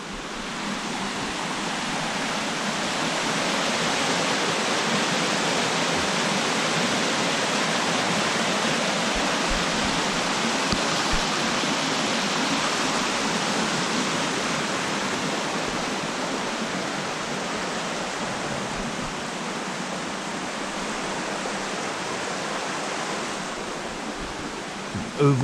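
A waterfall roars just after 10mm of rain, giving a loud, steady rush of falling water that holds even for the whole stretch and is heard close, with no clear talking.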